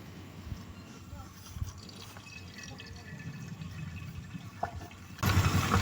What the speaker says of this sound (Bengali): গরম তেলে ডিমটাকে ভেজে নেব।